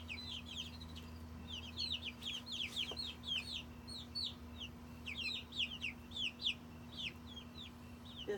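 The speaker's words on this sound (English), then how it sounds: "This one's a hen." Hens in a backyard chicken coop cluck in a steady stream of short, quick calls, soft and close, over a low constant hum.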